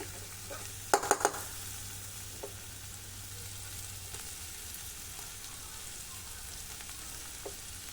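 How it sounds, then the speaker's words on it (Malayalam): Fried rice stirred and tossed in a hot pan, giving a steady low frying hiss with a quick cluster of sharp metallic clinks near the start and a few faint taps later, with no talk. "എല്ലാ റൈസും ഒന്ന് വേഗം ഇട്ട് കൊടുത്തിട്ട് മുഴുവനായിട്ട് തട്ടി കൊടുക്കുന്നുണ്ട്"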